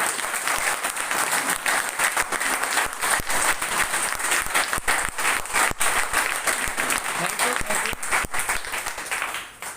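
An audience at a motivational talk by Dr. Kaushal claps loudly and continuously, a dense steady roar of hands that holds for the whole stretch without letting up.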